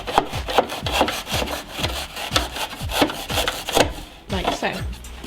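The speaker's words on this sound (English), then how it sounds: "We found a really good way of cutting the insulation pipe by using a mitre and a bread knife." A bread knife saws through foam pipe insulation held in a mitre box, giving quick rhythmic scraping strokes with soft thumps at each pass, close up and fairly loud.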